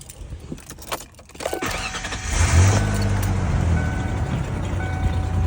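A 1994 Mazda B3000 pickup's engine cranks and catches after a few faint clicks and rattles, then settles into a steady, fairly loud idle that carries on to the end.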